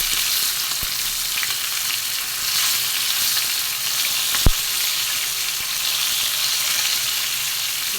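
Fish for a curry sizzles steadily in a hot pan, a loud continuous frying hiss with a single sharp pop partway through and no talking.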